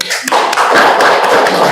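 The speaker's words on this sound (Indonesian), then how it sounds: "Tepuk tangan buat Rafli." Brief, close clapping follows a student presentation in a university lecture on Islamic investment and capital markets, with a few taps and thuds and voices in the room.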